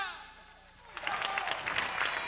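Audience applause for a Caribbean band at a televised presentation rises suddenly after a quiet moment of speech, then carries on as dense clapping.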